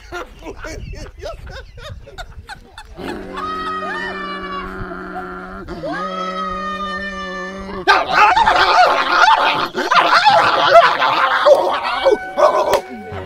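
A human voice imitates a crowd of dogs, first a rapid run of yips and barks, then long wavering howls, and finally a dense, noisy jumble of overlapping barking, loud and close.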